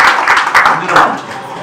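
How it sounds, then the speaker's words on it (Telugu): Audience applause at a public gathering honoring ward councillors, a steady burst of clapping from a crowd that swells in waves and stays fairly loud throughout. "వారికి గట్టిగా చప్పట్లు కొట్టి అభినందనలు తెలియజేయాలని కోరుతున్నా."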